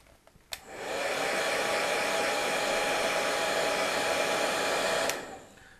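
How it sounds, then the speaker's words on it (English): A handheld hairdryer switches on with a click and blows steadily over a wet watercolour painting of autumn leaves, a loud constant whooshing roar for about four seconds before clicking off and winding down. "which is actually a hairdryer"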